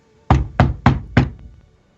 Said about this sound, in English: she knocks on the door.